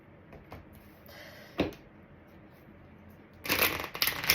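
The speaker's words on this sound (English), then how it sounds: "I'm going to get a couple more of these cards before we go into the tarot." Tarot cards being shuffled, with faint handling rustles early on and a brief snap near the middle, then a dense, close burst of riffling and fluttering card noise at the end.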